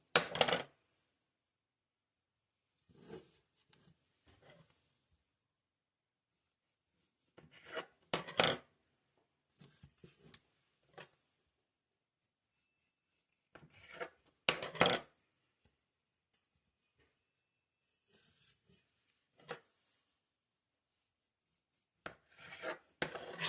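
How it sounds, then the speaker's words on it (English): A knife slices through rolled cinnamon roll dough in short separate bursts of cutting and scraping against a board, with long silent gaps between cuts. "we're just going to take a knife and we're just going to start cutting these"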